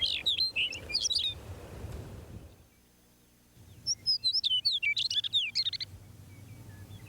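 Longspur calls, bright repeated chirps and short trills close by, with a first burst, a quiet pause, then a longer run of rapid calls over faint low background noise.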